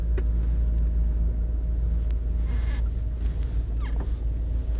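Car driving along a road heard from inside the cabin, a constant loud low engine and road rumble with faint passing whooshes and small clicks, no speech.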